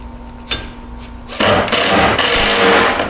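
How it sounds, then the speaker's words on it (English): Power driver with a P3 Phillips bit and a 7/16 socket tightening a bolt on a Honda Pioneer 1000-3 side-by-side, a quiet tap followed by a loud continuous whirring burst up close. "we'll go ahead and tighten this bolt down"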